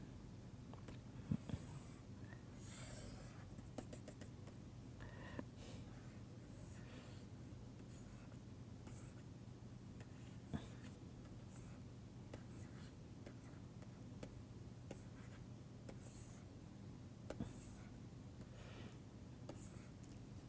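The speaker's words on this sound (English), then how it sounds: "I will try to draw a picture of a bottle here" A pen or marker scratches and taps across a surface while drawing a picture of an LPG cylinder, with faint intermittent strokes under a low steady hum over a quiet stretch.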